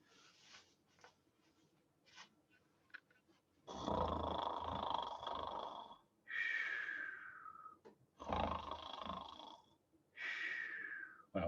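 Loud snoring cycles repeat, each broad rasping snore carrying a whistling tone and sliding down in pitch, separated by quieter breathing and small sounds, all at close range.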